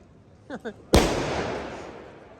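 A New Year's night firework bang in Italy, one sharp loud close blast with a long rumbling decay, preceded by two quick short voice bursts.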